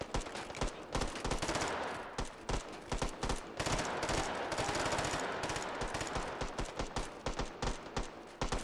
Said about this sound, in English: That guy just shot at me.